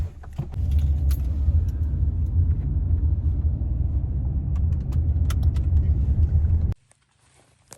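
A car drives along with a loud, steady engine and road rumble close inside the cabin, then cuts to near silence at the end.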